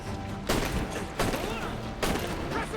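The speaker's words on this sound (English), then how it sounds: "He got me good with the grenade of his." Grenade blasts in Assassin's Creed Black Flag, three loud broadband booms about every three quarters of a second to a second and a half, with gunfire and combat noise in between.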